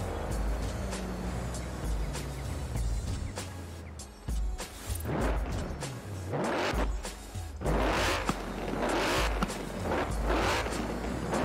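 Mercedes-AMG GT 63S with a twin-turbo 4.0-litre V8 in Forza Horizon 4, revving and accelerating loudly through repeated bursts and gear changes, the engine roar rising and falling close up.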